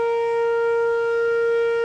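An outdoor tornado warning siren under test in St. Louis sounds one loud, sustained, steady tone with strong harmonics, unbroken across the whole stretch.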